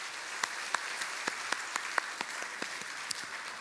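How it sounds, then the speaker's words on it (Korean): A church congregation applauding during a Sunday service, a brief, sparse burst of individual claps with distinct hand strikes at a moderate distance. "박수로 격려하겠습니다."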